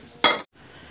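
A pan set down on a kitchen stove while preparing dal makhani: a single short, bright metallic clink and scrape, close and clear, followed by a brief quiet and a low hum.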